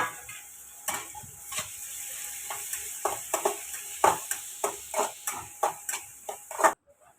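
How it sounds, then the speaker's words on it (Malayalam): Onion, green chilli and curry leaves sauté in coconut oil in a small wok, with a soft sizzle under a steady run of spatula scrapes and taps that grow stronger before stopping abruptly. "ഒരു ചീനച്ചട്ടിയിൽ കുറച്ച് വെളിച്ചെണ്ണ വെച്ച് കൊടുത്തിട്ടുണ്ട് അതിലേക്ക് സബോള ചെറുതായി അരിഞ്ഞതും പച്ചമുളകും കറിവേപ്പിലും കൂടിയിട്ടാണ് ഇട്ട് കൊടുക്കുന്നത്"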